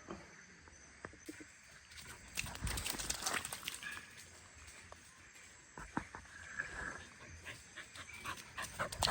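A dog panting and moving about in a village setting, with scattered clicks, knocks and rustling at close range; the sounds are quiet and intermittent, with a little background noise.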